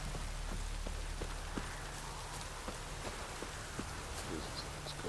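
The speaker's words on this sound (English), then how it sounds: "Look at that rain." Steady rainfall in the video game Witcher 3, a soft, even hiss of rain with faint, regularly spaced ticks and taps running through it, no talking.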